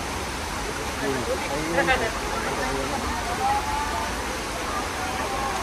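Waterfall spray at a zipline site, a steady hissing wash of falling water that runs throughout, with people talking over it.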